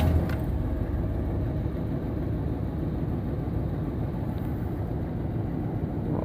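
A Chevy 400ci small-block V8 idling steadily nearby, a low rumbling, even engine drone with slight surges, loud and unchanging throughout.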